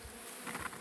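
Honey bees buzz during a honey harvest and hive rescue, a brief, close, steady hum with no talking.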